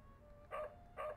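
Two short, faint dog barks or yelps from the Blackwell Legacy video game, spaced about half a second apart over a quiet background hum.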